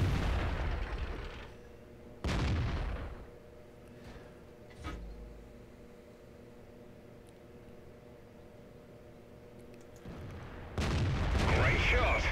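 Heavy tank cannon fire in World of Tanks comes as a few loud, booming shots spaced several seconds apart, over a low, steady engine rumble.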